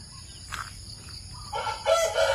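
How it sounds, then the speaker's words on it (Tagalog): A rooster crows nearby in the second half, a loud rising call over steady outdoor background noise, with a faint bird chirp earlier. "Yan yung mga alaga ating manok, no?"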